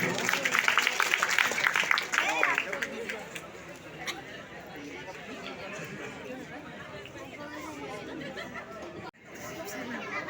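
Audience clapping for students at an Assamese school felicitation ceremony, a burst of applause and crowd chatter that fades under ongoing speech from the announcer.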